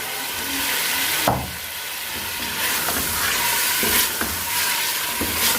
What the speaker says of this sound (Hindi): यहाँ पे मैं इसमें चिकन डाल रही हूँ, जिसको डाल के मैं अच्छी तरह से भून लूँगी।